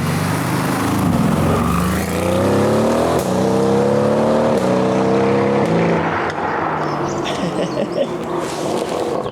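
A diesel TDS car engine with a short straight-pipe stack exhaust revs loudly and close by, its pitch climbing and falling in repeated sweeps before dropping back to a rough idle.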